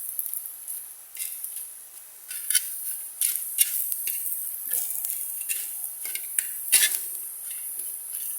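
French fries cooking in a dry pan with no oil, giving a light crackling sizzle while a utensil stirs and scrapes them in irregular bursts, fairly close and quiet, with no talking.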